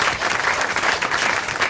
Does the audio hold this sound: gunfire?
no